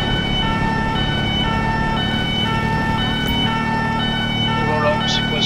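An ambulance siren in the video game GTA V wails steadily and loudly over continuous engine drone and road rumble, with no pause.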